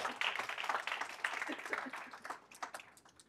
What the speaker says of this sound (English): let's give Rich a round of applause